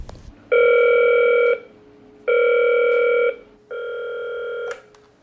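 Three long, loud telephone tones sound one after another with short gaps between them as a call goes through to a suicide-prevention helpline, with no talking.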